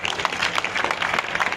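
Dense audience applause at a Hindi poetry gathering (kavi sammelan) in Malsisar, a loud, continuous wash of many hands clapping throughout a short burst with no pauses.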